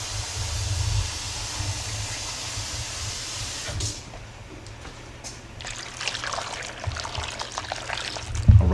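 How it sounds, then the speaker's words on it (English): Water is poured into a pot of Ghanaian-style yam porridge, a steady trickling splash that tapers off, followed by light clinks and stirring sounds nearby. "Let me add a little bit more water."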